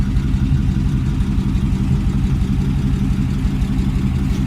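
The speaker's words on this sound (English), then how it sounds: "Car sounds really nice, no smoke coming out of the tailpipes." A 1953 Mercury Custom engine idles steadily with a deep, rumbling low-end throb, close and continuous, with no voices over it.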